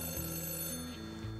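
A telephone rings with a short electronic melody of clear stepped tones, close and fairly quiet, with no talking over it.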